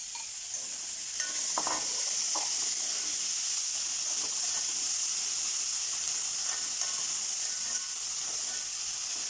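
Sliced onions with a pinch of salt sautéing in a pan for a mulberry leaf thoran, a steady close sizzle with occasional spoon scrapes and stirring clatters, no voices.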